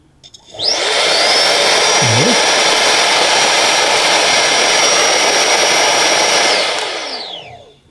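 A cordless handheld vacuum cleaner whines up to speed and roars steadily at close range for several seconds before winding down.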